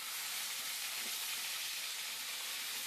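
Drumstick pieces frying in hot oil in a pan after hilsa fish has been fried, with a continuous, even sizzling hiss that stays steady and close throughout.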